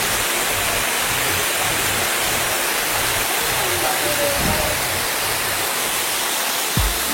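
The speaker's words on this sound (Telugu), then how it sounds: "పుణ్యగిరి వాటర్ ఫాల్స్ అనమాట" Punyagiri waterfall pours in a steady, dense broadband roar that fills the whole stretch, loud and unbroken, with faint voices in the background and a brief thump near the end.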